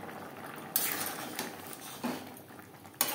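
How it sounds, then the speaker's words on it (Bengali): Kasuri methi and garam masala are stirred into a simmering egg and potato gravy, with a low bubbling hiss and a few distinct metal spoon scrapes and clinks against the pot, close and without speech. "কাসুরি মেথি ও গরম মশলা পাউডার বেশ ভালো করে মিক্সড করে দেব।"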